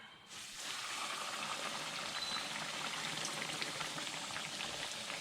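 A pork chop dropped into hot cooking oil sets off a sudden, steady, loud sizzle of crackling and popping that holds unbroken for several seconds.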